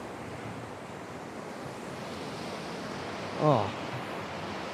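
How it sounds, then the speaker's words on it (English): Ocean waves break on rocks at Burleigh Heads beach in a steady, close roar of surf and wash, with a brief spoken exclamation partway through. "Here comes a huge wave."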